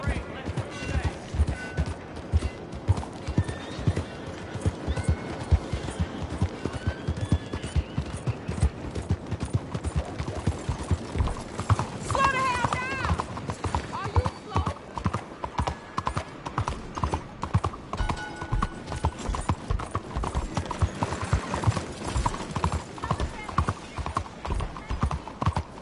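Steady rhythmic clip-clop of video game horse hooves trotting throughout, with a brief whinny partway through and talking at times over the hoofbeats.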